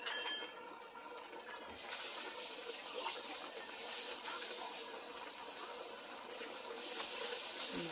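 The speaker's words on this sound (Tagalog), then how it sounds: "Lagyan natin ng tubig." Continuous bright splashing and hiss of water pouring steadily, with a slight rise in intensity partway through and no talking.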